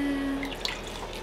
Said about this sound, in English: Emma, you like your first bath?